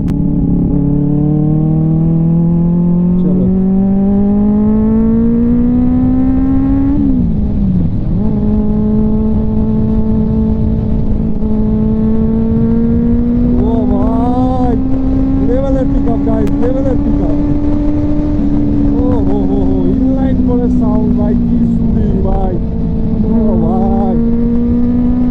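A Benelli 600i motorcycle engine revs hard and climbs in pitch as it accelerates, then holds a steady loud drone before revving again. A voice shouts faintly over it.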